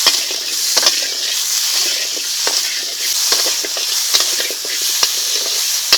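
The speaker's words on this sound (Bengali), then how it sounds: "এখন আমটাকে একটু ভেজে নেবো" Raw mango pieces frying in oil with salt and a little turmeric, a loud, continuous close sizzle punctuated by light stirring taps.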